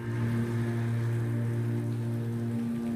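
Steady rain pattering on a surface, layered as an added effect in an edited reel, with a constant hum running underneath and no voices.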